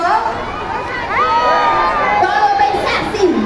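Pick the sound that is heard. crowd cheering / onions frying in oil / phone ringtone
crowd cheering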